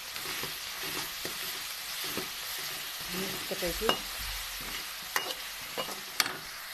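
Green chili, garlic and ginger fry in a hot pan, a steady sizzling hiss broken by sharp scraping clicks as a spoon stirs and pushes the pieces around, close and fairly quiet.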